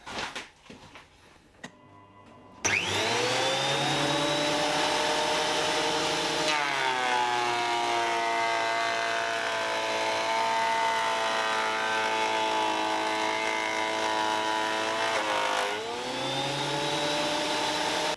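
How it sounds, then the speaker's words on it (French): A Metabo DH330 wood planer and a shop vacuum make a loud, steady roar with a high whine, running almost continuously after starting abruptly following a few quiet seconds. "mise en route de la machine, de l'aspirateur, et c'est parti"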